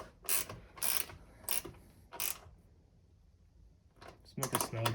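A ratchet clicks in several quick bursts while snugging down 10mm nuts on a Toyota Highlander door, close and fairly loud, with pauses between the bursts and a brief voice near the end.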